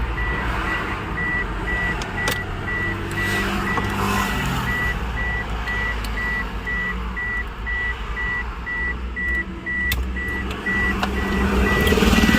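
Steady, evenly spaced reversing beeps from a car's reverse-light wiring ring out over a low engine idle and background rumble, repeating the whole way through with no talking.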